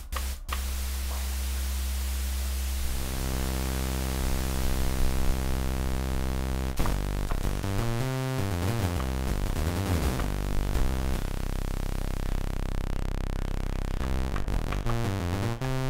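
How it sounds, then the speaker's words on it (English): A synthesizer noise oscillator hisses steadily as broadband static layered over buzzing tonal drones, the texture shifting and warbling as the patch is adjusted, loud and continuous with no voices. "I'd like to add a little bit of noise into my synth patches"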